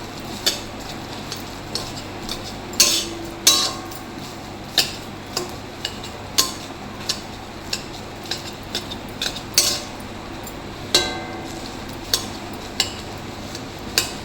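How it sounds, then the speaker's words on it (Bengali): A spoon stirring jeera rice in a pot gives sharp, irregular clinks and taps against the metal over a low background hiss, close and fairly loud. "ভালো করে নাড়িয়ে নেব।"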